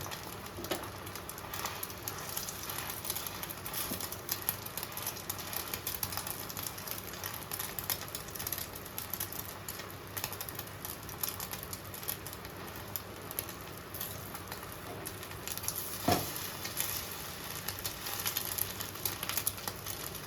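An egg sizzling in a frying pan for a spicy bread omelette, a soft, steady crackle and patter that runs on evenly at a low level with no talk.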